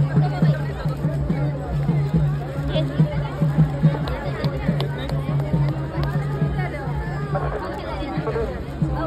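Crowd chatter from people gathered along a road awaiting a palkhi procession in Dighi, a steady hubbub of many overlapping voices with a persistent low hum and scattered nearby sounds throughout.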